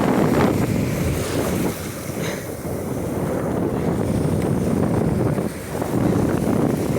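Strong wind roars steadily across an open-air microphone while fishing with a silicone lure in very cold weather, a loud continuous broadband rush that dips only briefly, with no talking.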